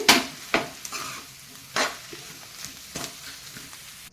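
Boiled potatoes being stirred in a pan for potato palya give several distinct scraping, clattering strokes at an irregular pace over a faint background sizzle, close by and with no talking.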